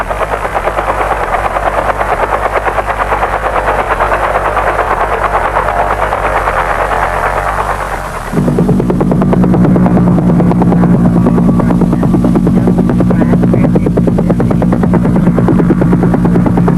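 A helicopter thunders overhead at the Freeport mine in Indonesia, its rotor chop loud and continuous, the engine tone shifting partway through as it passes close.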